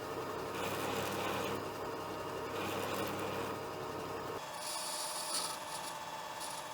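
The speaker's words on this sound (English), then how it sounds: "Now I start working on the knob, and I start with knurling the outside." A lathe knurls the outer surface of a knob, producing a steady rasping, grinding scrape that shifts to a thinner, brighter tone partway through.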